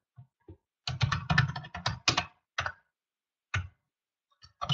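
Someone types a notebook title on a computer keyboard in short bursts of quick clicks, with pauses between the bursts. The clicks are close and clear in an otherwise quiet room.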